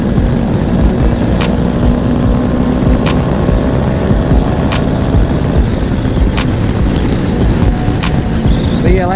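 Steady engine drone and wind rush from a 2020 Honda CBR 500R motorcycle cruising on a highway at night, loud and continuous throughout, with a rider talking over it.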